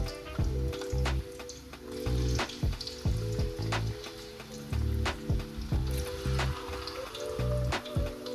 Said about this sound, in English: carefully add the potato pieces, making sure they are evenly spread out for consistent frying